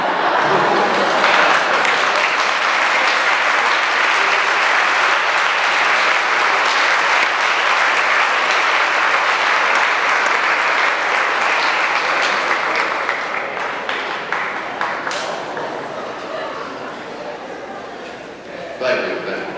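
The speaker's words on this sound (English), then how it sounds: "give a round of applause" Sustained audience applause at a high school distinguished alumni awards ceremony, dense and loud for a long stretch before thinning and tapering near the end.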